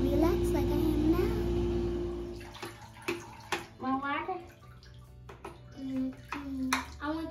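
Water runs steadily into a home bathtub at first, then turns into intermittent splashing as a child plays in the bath, with a child's and an adult's voices talking over the sloshing.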